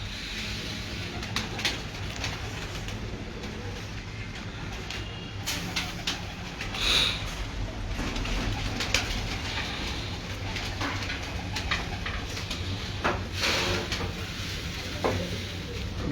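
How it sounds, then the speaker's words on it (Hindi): Pigeons coo softly on a rooftop loft, low murmuring calls under steady background hiss and scattered clicks and rustles throughout. "मेरे पास ना मांगे हुए कबूतर थोड़े हैं,"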